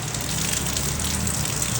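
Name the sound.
rain falling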